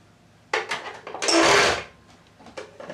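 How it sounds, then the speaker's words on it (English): A sewing machine stitches darts on a cami top in one short, close burst of whirring, framed by a few small clicks and knocks of handling. "I'm going to sew the darts"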